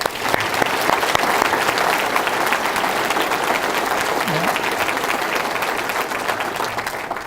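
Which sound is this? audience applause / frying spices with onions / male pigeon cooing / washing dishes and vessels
audience applause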